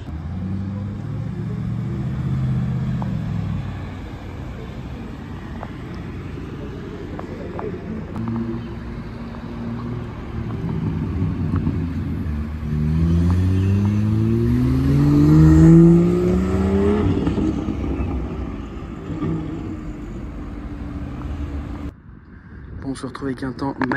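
A BMW M3 CS drives past in the Vosges, its engine revving and swelling in a rising, near pass before fading, with people talking over much of it.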